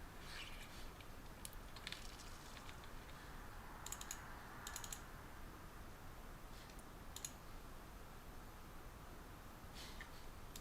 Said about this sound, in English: So that's my keyboard.